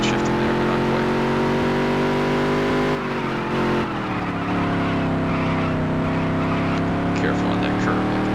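Modified race car engine in the NASCAR Dirt to Daytona game, a loud continuous high-revving drone with harmonic pitch that dips briefly as if lifting off the throttle, then climbs again, with commentary over it.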